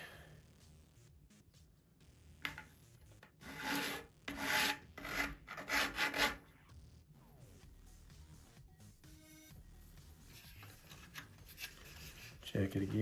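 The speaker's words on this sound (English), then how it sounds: "You just want to lightly do this. Let the sandpaper do the work." Sandpaper lightly rubbing a part on a Top Flite .60 size P-40E Warhawk model airplane, heard as soft raspy strokes in short bursts, moderately close, with quiet pauses between passes.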